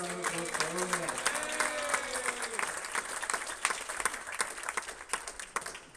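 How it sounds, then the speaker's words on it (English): Applause from a crowd at a Hong Kong Football Club Open semi-finals event, steady clapping under a voice that trails off early, the clapping then continuing on its own. "please, one more time, a big round of applause for Orfi"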